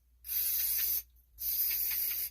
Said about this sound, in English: so spray that out with your carb cleaner